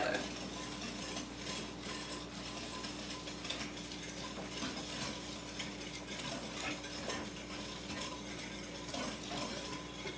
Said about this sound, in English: now we're going to go ahead and whisk this